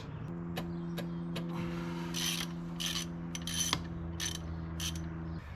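Hand ratchet working 13mm bolts on a 2007 Ford Mustang, quiet clicking pawl strokes in rhythmic bursts over a low steady hum nearby.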